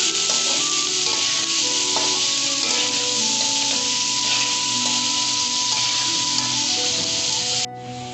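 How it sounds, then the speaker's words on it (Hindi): Boneless chicken fries in a pan with a loud, steady sizzle, close and continuous, joined by scraping stirs before the hiss drops off abruptly near the end. "बोनलेस चिकन है पाव, वो हम डाल देंगे और इसको फ्राई करेंगे जब तक कि इसका कलर चेंज ना हो जाए"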